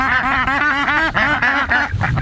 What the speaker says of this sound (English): Where are you going, ducks?